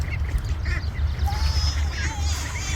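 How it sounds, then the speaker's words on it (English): Ducks quack repeatedly at close range on a farm where geese are also kept, with a child and an adult talking over the calls. "you can tell him that we have some ducks"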